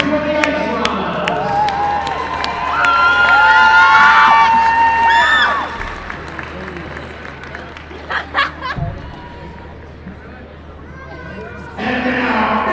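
Crowd at a high school hockey trophy ceremony cheering, shouting and clapping for the runner-up Ice Llamas, a loud swelling roar with an announcer's voice over it, then settling into scattered claps and chatter.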